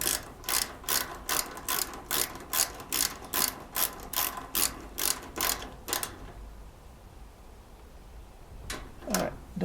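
A hand ratchet tightening the terminal screws on an electric dryer's power cord, a steady run of about a dozen crisp clicking strokes, close and alone, then quiet with a couple of faint clicks.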